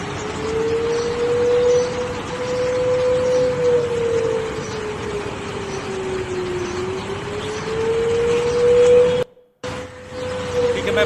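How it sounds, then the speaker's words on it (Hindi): A single emergency siren wails across Pakistan, a steady rising and falling tone heard from a distance over a noisy background, briefly cut off near the end before resuming. "इस्लामाबाद समेत देश के कई इलाकों में इस वक्त इमरजेंसी सायरन गूंज रहे हैं"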